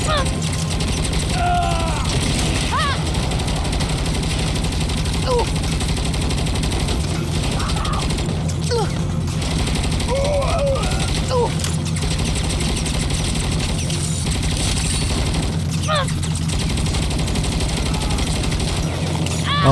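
Video game gunfire from Saints Row 2, bursts of shots running steadily across the clip under a constant engine-like drone, with voices talking over the action.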